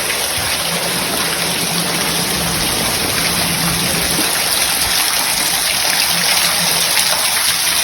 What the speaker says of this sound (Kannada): ಇವತ್ತು ಕೂಡ ಸಿಕ್ಕಾಪಟ್ಟೆ ಮಳೆ ಈಗ ಸ್ಟಾರ್ಟ್ ಆಗಿದ್ದು ಒಂದು ಐದು ನಿಮಿಷ ಆಯಿತು